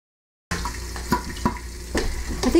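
Great Value hickory smoked bacon frying in a pan, a steady close sizzle broken by a few sharp pops and crackles, starting abruptly after a brief silence with no voices.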